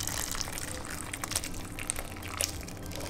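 Cooked homemade chili sauce of tomatoes and chili is poured into a bowl, with a faint, continuous wet gushing and a few small splashes and clinks.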